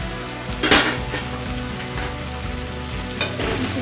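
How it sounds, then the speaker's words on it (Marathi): Aloo gobi of cauliflower and potato fries in a pan with a continuous close sizzle, broken by a metallic clank of the lid coming off near the start and a couple of lighter clinks afterward. "5 मिनिटं झाली आहेत, आपण परत त्याचं झाकण उघडून बघूया।"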